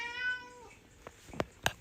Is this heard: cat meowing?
yes